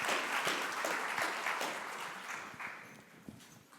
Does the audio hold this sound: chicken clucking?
no